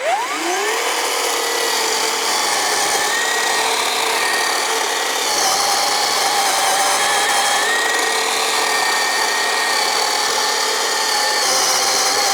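A Black & Decker cordless electric chainsaw cuts through wood, its motor whining at a steady pitch with a rough, rasping chain bite that holds loud and continuous, easing slightly midway before pressing on.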